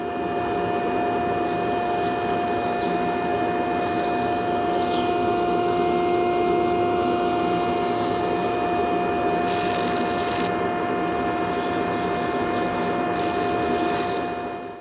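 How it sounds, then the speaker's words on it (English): Sanding a turned wooden wine glass stem on a running lathe, a steady loud whirring hum with continuous abrasive rubbing throughout, no talking. "I just have to sand it and part it."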